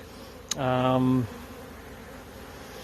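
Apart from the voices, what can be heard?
honey bees buzzing around a Michigan hive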